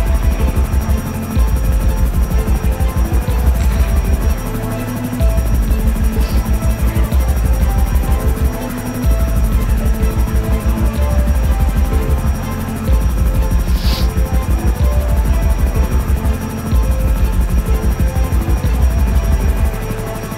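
Helicopter rotor in GTA 5, heard from inside the cabin as a steady, loud, throbbing chop with a constant engine hum, brief dips in level now and then, with no talking.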